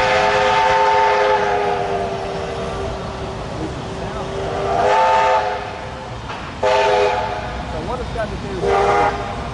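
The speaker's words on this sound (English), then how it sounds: "awaiting steam train from Wellington, which is bringing a load of passengers up for the building staff market" A steam train arriving from Wellington sounds its whistle in several long, loud blasts that rise and stop, with rail noise and voices underneath.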